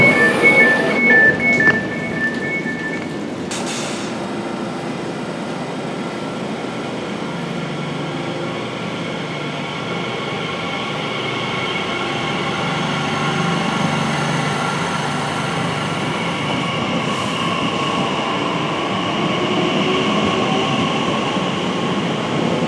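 An Elizabeth Line train runs along the Great Eastern Main Line, with a steady, loud rumble of wheels and motors heard from inside the carriage, a brief tone near the start, and no talking.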